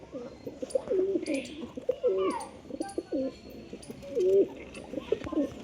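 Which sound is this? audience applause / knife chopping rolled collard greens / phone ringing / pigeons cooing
pigeons cooing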